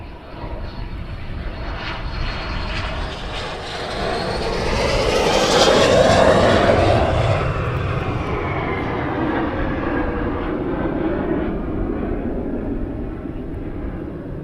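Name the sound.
military jet aircraft flying past at RAF Valley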